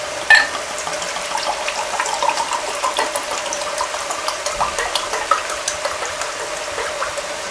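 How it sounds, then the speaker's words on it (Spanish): Red wine poured into a lamb stew, a steady liquid splashing and trickling with faint sizzling and light clinks, close and alone without talk. "Vamos a agregarle el vino."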